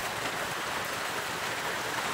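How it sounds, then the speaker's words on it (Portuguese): Heavy rain pours onto a street and rooftops on Rua Dona Yolanda Guimarães, a steady, dense hiss of drops that stays loud and unbroken throughout with no voices over it. "Tá chovendo, não é pouco não, hein?"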